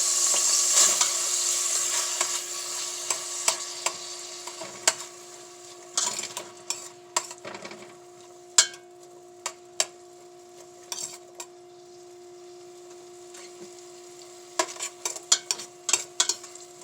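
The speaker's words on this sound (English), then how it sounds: "I'm going to just let this saute down" Garlic and celery sautéing in a pan: a faint sizzle that fades early, then scattered metallic clinks and taps of a fork against the pan, nearby and without speech.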